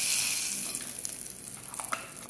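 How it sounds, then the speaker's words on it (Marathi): Bijora, a sun-dried snack, deep frying in hot oil with a steady close hiss and crackle of bubbling oil that eases slightly over a couple of seconds, with no talk. "चला, याला तळून घेऊ आपण."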